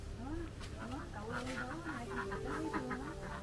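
Chickens cluck and call on a drought-hit farm in Long An, Vietnam, their repeated calls rising over a constant background noise, with people's voices mixed in.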